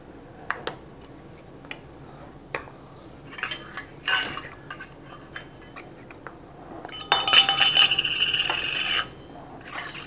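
Glass canning jars are handled while their rims are wiped clean before pressure canning: sparse close clinks and taps, then a longer stretch of rubbing, rattling glass-and-metal clatter.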